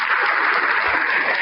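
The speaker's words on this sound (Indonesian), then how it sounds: "Ayo tepuk tangannya mana?" A live audience at a religious talk event bursts into sustained, loud applause, a thick unbroken patter of many hands that holds steady throughout.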